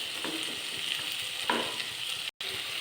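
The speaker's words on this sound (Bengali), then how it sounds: "এরপর ভালো করে আলুর সঙ্গে মশলাটিকে আদাটিকে কষিয়ে নেব।" Spice paste, ginger and potatoes are sautéed in a pan for a soya keema recipe, giving a soft, steady sizzle with a few scraping stirs and one brief gap near the end.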